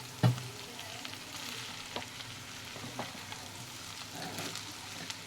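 Cooked basmati rice being stirred and tossed in a kadai, soft sizzling under scraping and shuffling strokes of a spatula, close and fairly quiet, without voices.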